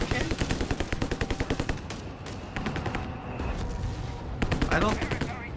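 Machine gun fire in a Company of Heroes 3 pro league match, with rapid rhythmic bursts of automatic gunfire up close, a brief pause, then further bursts and scattered shots under a commentator's voice.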